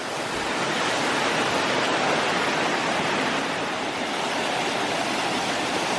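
Steady, full roar of a waterfall close by on a New Zealand hike, loud and constant with no pauses or voices.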